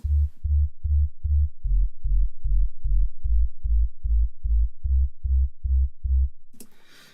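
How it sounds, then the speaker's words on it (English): A sub bass synth with a filter on it plays alone, a loud, deep, clean pulsing note repeated about eighteen times in an even rhythm, stopping abruptly near the end. "if we just listen to the pure bass on its own, this is the sub bass with my filter on it"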